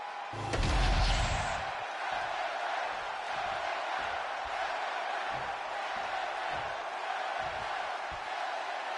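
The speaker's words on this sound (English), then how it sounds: "the roar of the crowd tells you all you need to know" A large arena crowd roars for LA Knight at a WWE 2K25 SmackDown show, with a loud burst of cheering and a thump near the start that settles into a steady, sustained crowd roar throughout.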